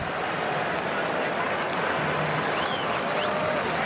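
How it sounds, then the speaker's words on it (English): Big college football stadium crowd in Knoxville applauds an injured Georgia player, a thick steady roar of clapping and cheering at full loudness with faint talk underneath. "And gets a round of applause from the folks here in Knoxville."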